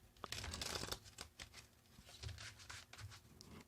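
Faint riffle and patter of tarot cards being shuffled by hand, quick soft crinkly bursts close to the microphone, with no voices.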